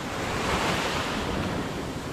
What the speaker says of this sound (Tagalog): may alon sa laot